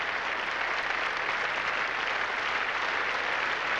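Continuous applause fills an Olympic gymnastics arena, the Luzhniki Sports Palace, during a 1980 USSR Cup women's all-around competition, a steady even roar of many hands from a distant crowd.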